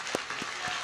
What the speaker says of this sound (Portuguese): para o qual eu peço uma salva de palmas